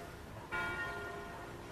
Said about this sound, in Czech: Mám ráda zvony.